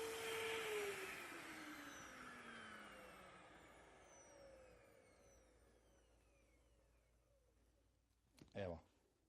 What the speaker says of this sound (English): We vacuum the same part that you did a few seconds ago